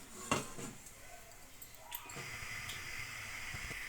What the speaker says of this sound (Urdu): سب سے پہلے دیگچی کو چولہے پہ چڑھا دیں گے۔